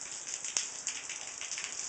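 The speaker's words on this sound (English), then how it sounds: "See? It's raining." Rain falls as a steady, soft hiss of drops on a surface, with a few slightly louder individual drop taps, faint and continuous with no talking.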